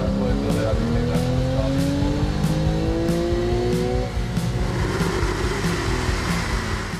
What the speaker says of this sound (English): engineers adjust air supply and exhaust alignment in order to influence the noise of the engine